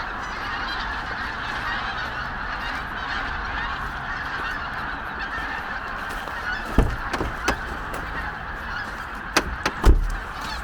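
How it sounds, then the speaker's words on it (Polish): A large flock of waterfowl on a winter lake at night, with continuous, dense massed honking and calling close by and a few louder individual calls standing out near the end. "Właśnie podziwiamy z Michałem ilość kaczek, która się tutaj przywija"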